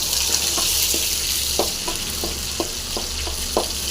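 Crushed garlic and green chillies fry in hot oil in a pan for a Tamil beetroot dish, a loud continuous sizzle with soft stirring knocks scattered through it, close up and with no talk.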